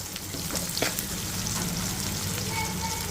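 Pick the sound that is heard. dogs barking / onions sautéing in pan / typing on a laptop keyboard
onions sautéing in pan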